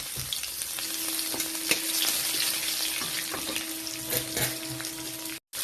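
Chopped garlic fries in hot oil with dried red chili, cumin, cinnamon, cardamom and bay leaf, giving a steady close sizzle with occasional stirring clinks and pops.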